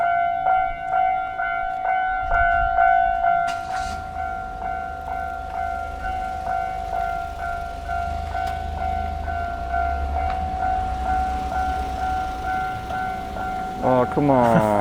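A Tokyo train rumbles past beside a coin laundry, a steady low roar with ringing crossing-bell tones sustained over most of the stretch, while people talk nearby.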